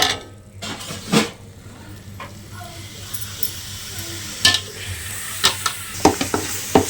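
Ginger-garlic masala being sautéed in oil for chicken curry, a low steady sizzle with scattered spoon scrapes and clinks against the pan, close and moderately loud.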